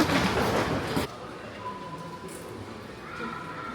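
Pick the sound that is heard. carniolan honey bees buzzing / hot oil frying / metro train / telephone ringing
metro train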